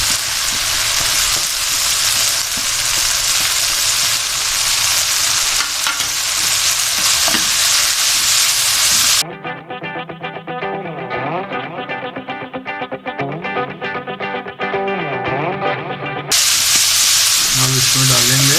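Julienned cabbage is stir-fried for a restaurant-style Pakistani chicken chow mein, a loud, steady sizzle and rustle filling the scene, with a stretch in the middle where it drops back under a quieter tonal background before the frying returns.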